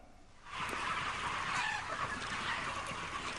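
A dense chorus of tens of thousands of chickens clucking and squawking together in a large shed under bright fluorescent lights, steady and continuous after a quiet start.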